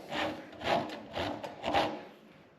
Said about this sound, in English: If you're unfamiliar with a rasp, it has really aggressive teeth.